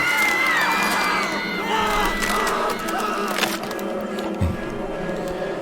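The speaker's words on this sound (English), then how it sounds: "the crowd around her became louder, started whistling and roaring, and growing." Crowd noise in the horror game Tiny Bunny, a steady loud mass of voices with whistle-like tones and rising shouts, continuous throughout.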